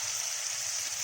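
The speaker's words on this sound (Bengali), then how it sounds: "এবার আমি দুধটা দেব।" Milk poured into a pan while cooking a small-prawn malaikari gives a steady, soft hissing trickle, faint and continuous with no talk over it.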